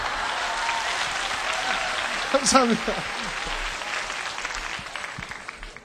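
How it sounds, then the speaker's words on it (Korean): Broad, steady applause fills a concert hall audience, with a brief laugh and a short spoken thanks rising over the clapping midway before it tapers off. "너무 많아서 박수로 대신하겠습니다"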